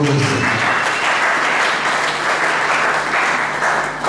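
A congregation claps loudly and steadily at a church service, dense sustained applause filling the space with some cheering voices mixed in.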